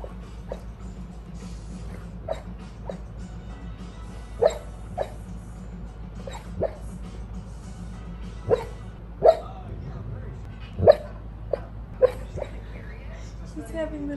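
Soft, faint whimpers and tiny yips come in short irregular bursts over a low steady hum, from a dog murmuring in its sleep aboard a boat.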